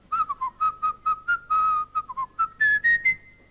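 A person whistles a lively melody up close, with a quick run of short, bright notes that ends in a few longer held tones, and no other sound.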